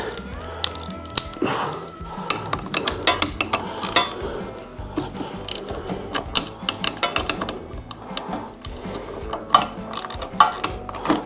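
A 3/8 socket on a ratchet works a bolt loose on a Harley Davidson FXDX, giving close, irregular metallic clicks and clanks with short pauses.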